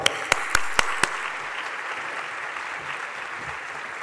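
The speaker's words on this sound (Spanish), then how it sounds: "os pido una gran bienvenida y un fuerte aplauso para reconocer el apoyo del ministro Héctor Gómez" Audience applause in a large auditorium greets Minister of Industry, Commerce and Tourism Héctor Gómez. A few sharp, distinct claps open it, then dense, steady clapping from a crowd continues throughout at moderate loudness.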